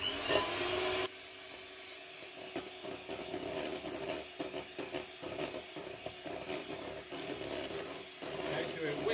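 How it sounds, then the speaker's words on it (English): A whisk scrapes steadily through a thick sugar mixture in a bowl, a rhythmic rasping stroke repeating at a brisk pace, close and moderately quiet. "we're going to gradually whisk in the sugar"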